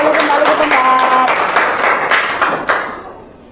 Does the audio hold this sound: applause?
yes